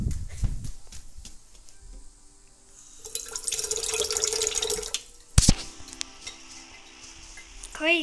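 A watering can pours water onto plants in a video game, a close splashing trickle that rises and runs for a couple of seconds, followed by a sharp clunk and faint game sounds, with no talk.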